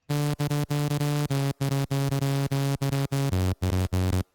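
Buzzy sawtooth synthesizer notes in short, chopped bursts with a faint LFO wobble in pitch, playing a choppy repeating pattern that drops lower near the end.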